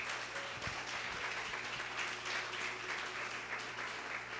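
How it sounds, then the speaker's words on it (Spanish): A church congregation applauds with steady, dense clapping that carries evenly from a distance and runs without a break. "Entonces, apláudale si le va a aplaudir."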